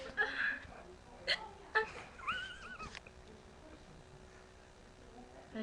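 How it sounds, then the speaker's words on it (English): A person hiccups three or four times in quick, sharp, close bursts during the first few seconds, then things go quiet with only faint background noise. "has the hiccups"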